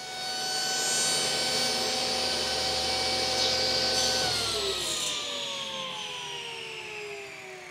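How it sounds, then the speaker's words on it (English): A power saw cuts the front panel of a DIY powered subwoofer speaker box, a steady loud whining drone with broad high rasp that holds for several seconds, then dips slightly in pitch as the blade slows. "I actually need to cut the front panel smaller so that the very point or the apex of the miter lines up."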